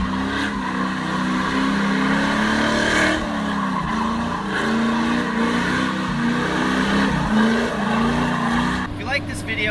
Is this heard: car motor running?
yes